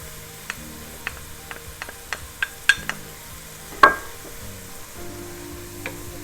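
Garlic and leeks sizzle softly in a pan while being stirred, a quiet frying hiss broken by sharp clicks and taps of a utensil against the pan, one louder knock near the middle.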